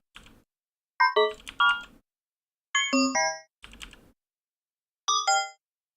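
Atonal synthesizer blips shaped by random modulation and a high-pass filter, five short bursts of clustered bright pitches separated by silence, dry and close.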